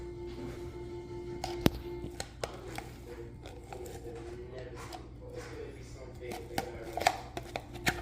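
Corned beef being mixed by hand for meatballs, giving soft squelching and slapping with occasional sharper taps against the bowl over a steady low background hum, close and moderately quiet.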